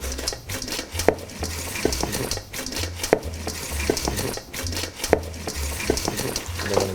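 Chicken wings from the air fryer are tossed in truffle hot sauce, a steady scrape and clatter of stirring in a bowl with rhythmic knocks repeating through, close and moderately loud, no talk.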